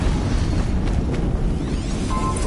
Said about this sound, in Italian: Un'altra esplosione.